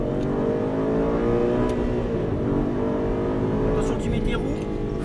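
An Aston Martin Vantage at the Dreux track pulls away after braking and a clutch release, a loud sustained engine roar rising under an instructor's voice coaching the driver.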